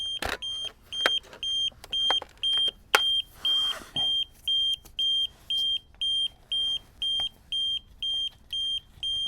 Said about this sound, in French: Donc là, il va se mettre à biper, c'est normal.